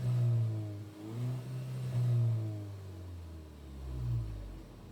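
A warmed-up 1.8 TSI car engine, recently decarbonized, idles steadily with a low rumbling hum and gently swelling pitch, heard up close with no talking.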